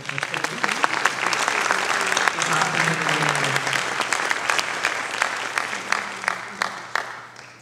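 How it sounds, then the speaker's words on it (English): A crowd at a high school award program gives a round of applause, sustained clapping with a voice heard briefly beneath it and sharp individual claps standing out as it tapers toward the end. "give a round of applause for"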